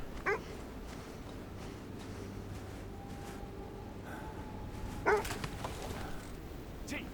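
Dogs in the video game Kona 2: Brume give two short yips or barks a few seconds apart, heard over a steady low ambient background.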